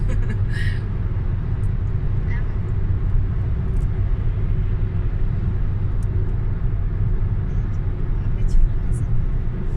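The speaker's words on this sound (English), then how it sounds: "Sorry for the noises because we are in the car" A steady low engine rumble and road noise from inside a moving car, with faint occasional knocks and bumps.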